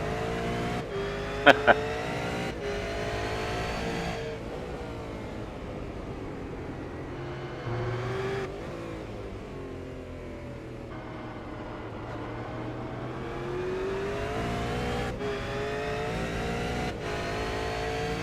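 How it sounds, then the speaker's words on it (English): A V8 Supercar in the iRacing sim at Zandvoort howls from onboard, its engine loud and continuous as it revs up and down through gear changes and corners for a full lap segment. "we're just going to ride on board with veteran of the V8 series, Justin Ruggier, for a lap"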